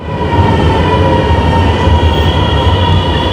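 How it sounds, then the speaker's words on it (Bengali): A Milan M1 metro train pulls in at the opposite side of the platform, its steady loud rumble and rail roar filling the station with a faint high whine over it, no voices. "এইমাত্র একটা ট্রেন উল্টা দিক থেকে এসে আমরা যে প্ল্যাটফর্মে দাঁড়িয়েছি সেই প্ল্যাটফর্মের ওই পারে গিয়ে দাঁড়ালো"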